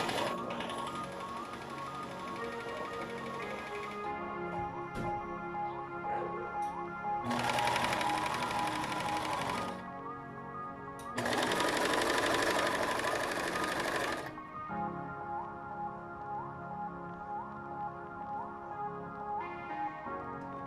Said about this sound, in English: So the key to make a lettuce hem is to pull the fabric and sew.